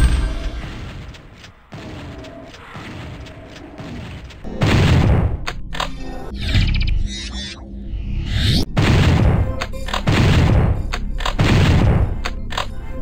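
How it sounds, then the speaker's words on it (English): Doom 64's Super Shotgun blasting in a 1997 first-person shooter, a series of loud, heavy booming shots spaced roughly a second or two apart, each with a deep thudding impact and a short mechanical reload tail. "Doom 64's Super Shotgun gains a significant extra point for the sheer impact value it has."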